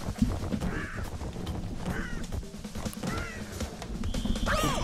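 Crow-like caws from a bird in Crash Bandicoot N. Sane Trilogy ring out several times at a steady pace over busy game background sound, with no talking.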